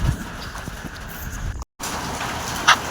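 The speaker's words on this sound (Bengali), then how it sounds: "আর হঠাৎ করে দেখতে পাই শিলের বৃষ্টি হচ্ছে" Dense, clattering patter of hailstones and rain striking hard surfaces nearby in Assam, with a brief dropout partway through and a sharp click near the end.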